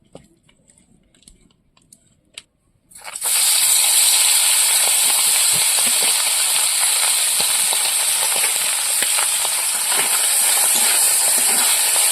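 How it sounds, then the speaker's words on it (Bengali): Gule fish, a small freshwater fish, drop into hot oil after a few quiet seconds, then fry with a loud, steady, hissing sizzle that fills the rest of the clip without letting up. "এবার মাছগুলো ভেজে নেব"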